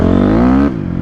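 A Honda CRF250R dirt bike engine revs up to a loud, rising whine, then drops off sharply as the throttle is released, recorded up close during break-in riding.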